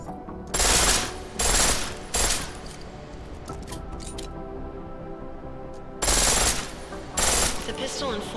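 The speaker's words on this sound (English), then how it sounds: "The pistol in full auto will take down targets fast." Bursts of rapid automatic pistol fire from the video game Deus Ex: Mankind Divided come in several loud, short volleys separated by quieter gaps with faint mechanical clicks.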